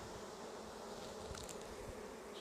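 Honey bees at an opened hive hum in a dense, continuous drone, with faint handling thumps and no voices.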